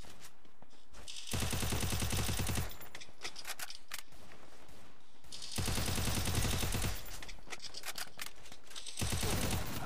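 Rapid bursts of automatic gunfire from the mobile battle royale game Free Fire MAX crackle in two long volleys, loud and close, with quieter clicks and scrapes between them and no talking.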